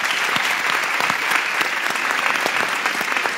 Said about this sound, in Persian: تشویق بکنید.